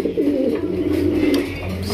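A Raj Golla pigeon coos close by, a loud, throaty, rolling coo that swells and sustains for a couple of seconds with no talking over it.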